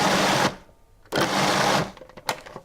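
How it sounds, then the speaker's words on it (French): A Magimix food processor pulses salmon for tartare in two loud whirring bursts of about half a second each, separated by a short pause, followed by faint clatter. "Et je vais mixer toujours en pulsion pour faire le tartare."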